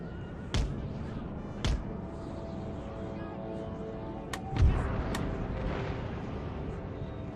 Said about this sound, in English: And meanwhile, my cannons can fire at their cavalry.